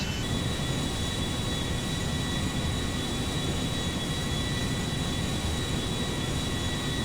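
Airplane in GTA 5 heard in flight as a steady, loud broadband engine roar with a high whine, continuous throughout with no talk.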